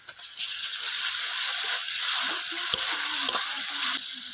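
Garlic paste sizzling in a frying pan while a village-style chicken curry is cooked: a steady, close hiss of hot oil with a few soft scraping stirs.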